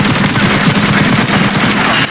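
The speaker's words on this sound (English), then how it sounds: "Let me try to shoot it." Sustained burst of automatic gunfire in the survival-horror game Resident Evil Requiem, loud and dense for the whole moment with no talking.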